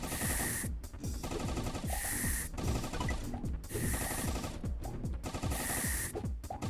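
An upgraded SMG in a video game fires in rapid, continuous bursts. The chattering shots repeat steadily over several seconds with hissy mechanical layers and no talking.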